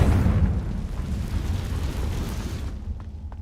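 Confringo blasting spell in Hogwarts Legacy, a heavy fiery explosion rumbling loudly and fading over about three seconds, alone without talk.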